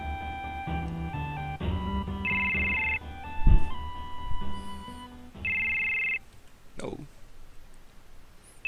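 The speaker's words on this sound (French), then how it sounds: "Téléphone." A telephone rings in Final Fantasy 7, with repeated bright electronic ring bursts over game music, a few clicks and a short spoken exclamation.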